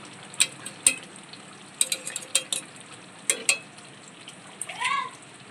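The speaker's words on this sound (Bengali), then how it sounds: "এবার আমি একটু ঘি আর একটু গরম মশলা দিয়ে নামিয়ে নেব ঘি দিয়ে দিলাম" Ghee sizzling as it is added to a pot of Kashmiri potato dum, a close crackling fry punctuated by sharp metallic clinks and taps against the pot.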